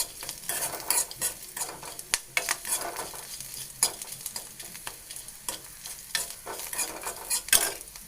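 A tempering for curd rice fries in hot oil with a crackling, popping sizzle, and repeated close clinks and scrapes of a spoon stirring in the pan.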